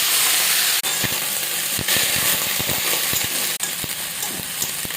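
Drained chopped cabbage hitting a hot pan for a vegetarian cabbage muri ghonto, giving a loud, steady hiss of sizzling with a few metallic clinks and stirring knocks, no voices.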